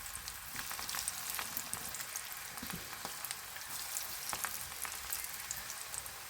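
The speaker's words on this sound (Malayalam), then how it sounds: "ഇനിയൊന്ന് ഫ്രൈ ചെയ്തെടുക്കാൻ ഒരു കുഴിയുള്ള പാനാണ് ഞാൻ എടുത്തിരിക്കുന്നത് അതിലേക്ക് കുറച്ച് എണ്ണ ഒഴിച്ചിട്ടുണ്ട് കോവയ്ക്ക് കുറച്ച് കുറച്ചായിട്ട് ഇട്ട് കൊടുക്കാം" Ivy gourd (kovakka) pieces frying in plenty of oil in a deep pan, a steady dense crackling sizzle with scattered sharp pops, loud and continuous throughout.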